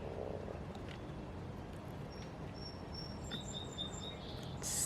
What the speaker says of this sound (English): Only at this point of time you can hear those little chirping of birds.